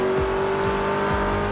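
Race car engine in Forza Motorsport 3 roaring loud and close, a sustained buzzing whine with a steady pitch and repeated gear-shift dips, with no talk over it.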